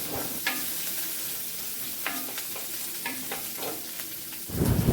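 Ivy gourd sizzles in hot oil with mustard seeds and curry leaves, a steady crackling hiss with scattered pops, ending in a louder rush as more pieces hit the pan.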